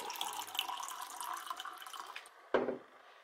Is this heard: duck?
no